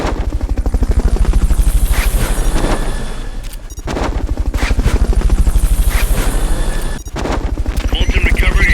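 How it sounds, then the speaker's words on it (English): A Fulton recovery helicopter in the video game Metal Gear Solid Peace Walker, a loud, rapid, throbbing rotor chop running throughout with two brief dips, with gunfire-like bursts and game voices mixed in. "Fulton recovery helicopter is complete."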